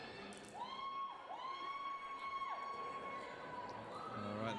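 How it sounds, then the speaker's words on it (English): Fans in the stands at a roller derby playoff bout cheer and shout at moderate distance, with a referee's whistle cutting through in long, repeated blasts. "the crowd here getting into it"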